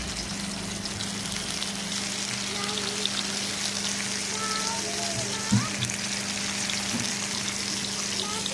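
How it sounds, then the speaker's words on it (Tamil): Pieces of koduva fish (barramundi) frying in a pan, a steady close crackling sizzle running throughout with a couple of brief louder pops. "இந்த கொடுவா மீனை இப்போ வறுக்க போகிறோம்."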